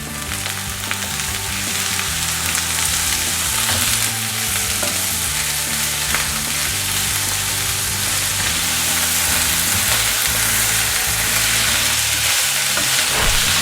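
Carrot sautés in a pan with a continuous loud sizzle, while utensil scrapes and stirring knocks come through at intervals.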